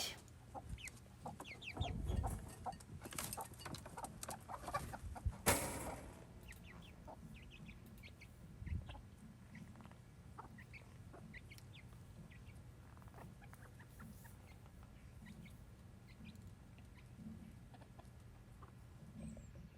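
A young rooster, about six weeks old, clucks with short soft calls scattered through a quiet outdoor setting, while a louder burst of rustling or a squawk comes near the start.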